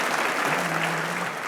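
Steady applause from a debate audience, a dense continuous wash of many hands clapping at close range, with no voices rising above it.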